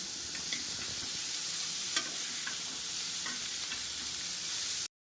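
Tomato halves and small pieces of ginger fry in a pan with a steady, broad sizzle that carries on throughout, broken by a few faint clinks and stirs, then stops abruptly at the end.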